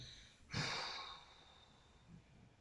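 A single audible exhale through the mouth during a guided sophrology relaxation, a soft breathy rush that swells and then trails off, close and quiet, with no talking.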